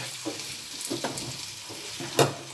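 Potatoes frying in hot oil for aloo biryani, a steady soft sizzle with occasional stirring scrapes and a sharper clink of utensil against the pan near the end.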